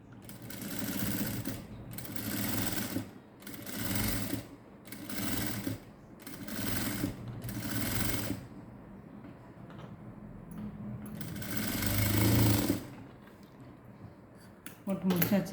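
A sewing machine stitches along the edge of canvas cloth in repeated bursts of steady whirring, pausing briefly between runs, close and loud.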